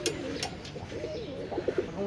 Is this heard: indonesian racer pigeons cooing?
yes